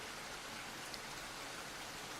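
Steady rain pouring down, a dense, even hiss of drops on surfaces that stays constant throughout with no voices or other sounds.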